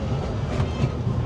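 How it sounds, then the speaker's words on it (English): The Disneyland Railroad train rolls along its rails into a station, a loud, steady rumble with faint rhythmic clatter from the wheels throughout. "As our train continues into the station"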